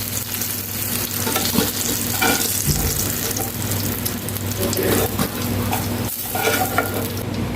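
Black nigella seeds tempering in hot oil left in a wok after frying brinjal, a steady close sizzle and crackle with occasional stirring scrapes, continuing without a break and with no talking.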